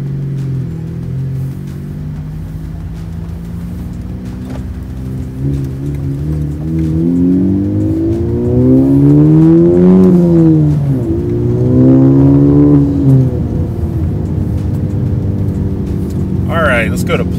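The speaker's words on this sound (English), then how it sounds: "and we will do a 0 to 60 pull." A car fitted with a short shifter revs and accelerates in a 0 to 60 pull, the engine note climbing in pitch, dropping at a gear change, then rising again, loud and close from inside the cabin.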